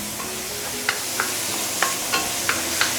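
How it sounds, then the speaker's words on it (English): A spoon or spatula knocks and scrapes in a hot wok with a steady sizzle as chopped tomato is stirred into curry ribs, about half a dozen short, regular clinks over soft frying. "I'm going to put in the chopped tomato. Give it a few stir."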